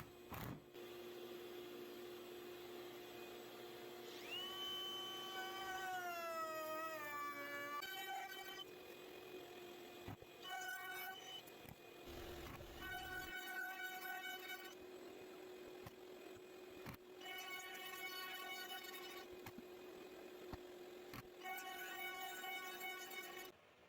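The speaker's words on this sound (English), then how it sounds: "This time, it's going to be a much smaller cove, so I can just use my router." A router with a small cove bit cuts along the edge of a wooden lamp top: a loud motor whine that spins up and down, then repeated bursts of cutting as the bit runs along the wood.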